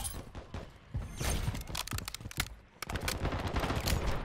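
Dense automatic gunfire in a Call of Duty multiplayer match, loud rapid bursts crackling close by with brief pauses and overlapping shots from several weapons, no talk.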